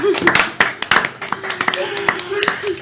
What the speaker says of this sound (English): Our studio audience is also applauding.